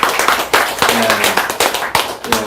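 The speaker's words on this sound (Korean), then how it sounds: "네, 박수 한번 다시 한번 치겠습니다." Audience members at a lecture clap in a brisk, regular rhythm of sharp hand strikes, close and fairly loud, with a few voices mixed in under the clapping.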